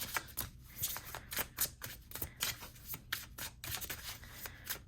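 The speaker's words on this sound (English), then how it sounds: "Let me get a few more cards out first." Tarot cards being shuffled in the hands, a quick run of soft riffling and slapping bursts in close succession, quiet and close with no talking.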